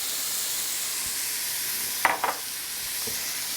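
Dozen shrimp laid onto a hot Blackstone E-Series indoor griddle, a steady bright sizzle with a couple of sharper crackling bursts as they hit the surface, close and alone.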